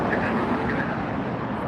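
A United Boeing 777-200 airliner landing at LAX, a steady loud broadband jet roar close by, holding evenly through the short stretch.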